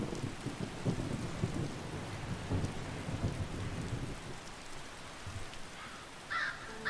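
Steady rain pours over a Skyrim landscape while low thunder rumbles and rolls through, with a few faint crow-like caws near the end; no talking.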